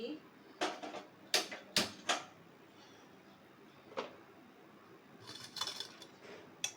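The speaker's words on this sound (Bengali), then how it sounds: "আমি এবারে কড়াইটা বসাচ্ছি" A kadai being set down on a home kitchen stove while preparing fish-head muri ghonto, giving a few sharp metallic clanks and knocks close by, followed by quieter rattles and a scatter of light clinks.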